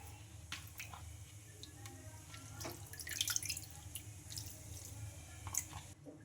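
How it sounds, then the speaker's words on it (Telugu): Water trickles and drips into soaked flattened rice with small wet splashes and squelches, fairly close and steady, one louder splash near the end. "ఈ అటుకులు ఇంకా వాటర్ అయితే వంపేసుకొని వేసేసుకుందాం"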